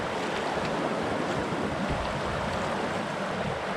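A river current rushes over rocks in a steady, dense roar that stays loud and unbroken, with no talking.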